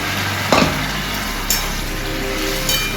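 Washed chickpeas (chana) sizzling in frying masala in a pan, a steady crackling fry close by with a few sharp clanks of a utensil against the pan.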